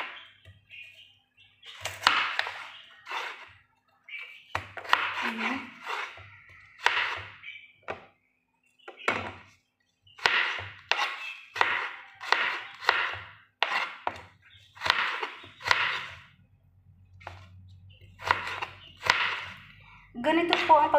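A knife chops vegetables for a vegetable salad into mixed sizes of small pieces, cubes and strips, striking a board in quick uneven bursts of sharp, close knocks with short pauses between runs.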